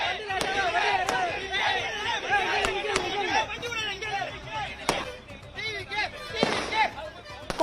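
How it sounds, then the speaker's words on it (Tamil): TVK party supporters at the Vikkiravandi toll plaza in Villupuram district welcome a passing bus with slogans. A dense crowd shouts and chants continuously and loudly, many voices overlapping, with sharp cries and whistles rising out of the din. "வழியில் விழுப்புரம் மாவட்டம் விக்கிரவாண்டி சுங்கச்சாவடியில் வாகனத்திற்கு வரவேற்பு அளித்து தொண்டர்கள் முழக்கத்தை எழுப்பி வருகிறார்கள்"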